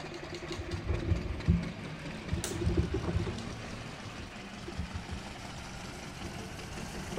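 Early 1900s Ford race car in Assetto Corsa, its engine droning low and steady under throttle with a brief rise midway, moderately loud and alone.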